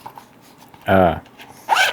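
A zipper on a handmade leather wristlet is pulled in two quick, close strokes, the first longer and louder, with a quiet gap between them.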